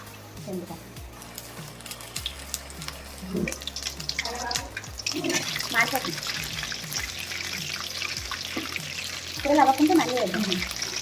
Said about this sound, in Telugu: చూడండి, ఇలా ఎర్రగా వేయించుకోవాలి